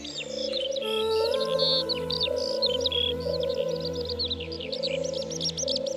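Wild birds sing in the Plaines-Villes countryside at Ploufragan in the Côtes-d'Armor, Brittany: bright chirps and warbling phrases sit over a steady low hum, fairly faint and continuous, with no talking.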